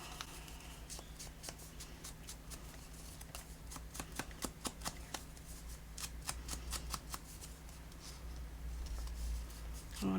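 Close, dry paper handling as the edges of a Turkish map fold made of paper are inked, the folded paper opened like a book: a run of quick ticking taps and light scrapes over a steady low hum, with no talk.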